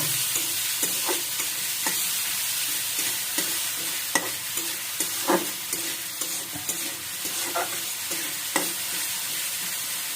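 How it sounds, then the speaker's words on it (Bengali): Chopped onion with salt frying in a pan under constant stirring: a continuous close sizzle broken by irregular scraping clicks of the spoon against the pan, with no talking. "লবণ দিয়ে পেঁয়াজটা হালকা বাদামি কালার হওয়া পর্যন্ত আমি একটু নাড়তে থাকবো"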